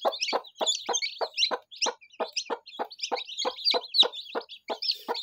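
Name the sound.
hen with newly hatched chicks clucking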